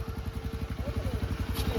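A motorcycle engine putters with a steady, rapid low pulse while the bike is edged around a parking area, close by and moderately loud throughout.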